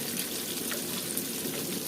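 Eggplant slices fry in a pan with a dense, continuous sizzle and crackle that stays steady and fairly loud throughout.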